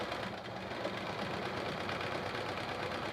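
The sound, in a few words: sewing machine free motion quilting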